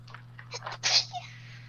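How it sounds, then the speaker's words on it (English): A short, soft sneeze bursts out after some quiet murmuring voices, followed by a faint trailing breath, all over a low steady hum. "You sneezed and made it even cuter."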